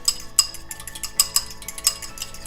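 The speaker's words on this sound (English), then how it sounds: "grab a fork, give that a nice whisk" A fork whisking an egg in a bowl, quick repeated metallic clinks against the rim in an uneven rhythm, close and clear with no talk.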